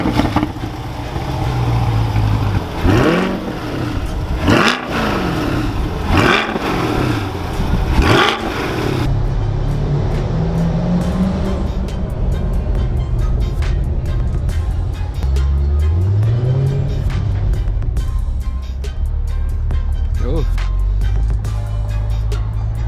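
A 2021 Corvette Stingray pulling away and accelerating, its engine revving hard in rising surges through the gears, first with roaring bursts and then a steadier drone that climbs again as the car speeds up.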